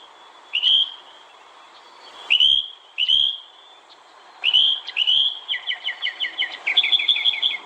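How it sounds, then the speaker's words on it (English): Bright bird chirps and whistled calls ring out alone, a few separate notes at first, then a quick rapid run of repeated chirps near the end, fairly close and clear against a quiet background. "There's one single bird left."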